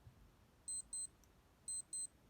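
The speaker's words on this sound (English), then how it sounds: "alarm goes off." Casio DW-5600C digital watch alarm under test: two pairs of short, high electronic beep bursts, each pair a quick double chirp, a second apart, close and clear against a quiet background.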